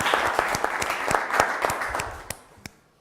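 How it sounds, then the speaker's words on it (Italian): A studio audience on the Italian quiz show Lo Sapevo! gives a dense round of applause that keeps a steady clatter, then tapers into a few last isolated claps. "bravi, fatemi un applauso."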